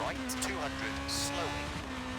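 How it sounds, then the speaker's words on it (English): A steady rally car engine drone in a racing game on the Žabárna stage holding one pitch, with brief higher bursts layered over it, and talking faintly mixed underneath. "Love the sound of these cars."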